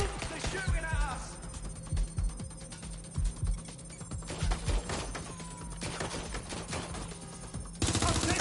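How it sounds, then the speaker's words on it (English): Gunfire erupts in the video game Watch Dogs: Legion, with rapid repeated shots and bursts rattling close by while voices shout over the shooting. "They're shooting at us!"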